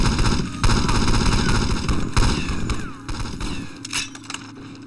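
Loud bursts of rapid gunfire from the video game James Bond 007: Nightfire, dense and booming at first, then thinning into scattered shots.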